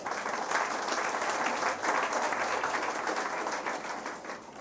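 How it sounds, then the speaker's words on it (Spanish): A church congregation breaks into sustained applause, a dense wash of hand claps that swells and holds steady for several seconds before tapering slightly. "De un aplauso,"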